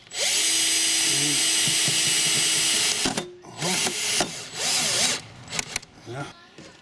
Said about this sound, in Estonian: paneme prooviks mõne kruviga kinni. Vaatame, kas see kruvi läheb lohiste kohe